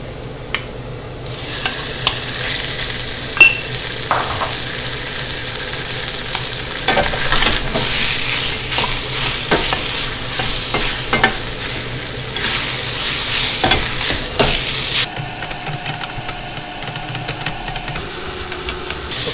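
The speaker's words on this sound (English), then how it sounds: "Okay, our beef's starting to brown up." Velvety beef with garlic and ginger stir-frying in a hot pan, a loud continuous sizzle close up with repeated scraping and stirring clatter, no talking.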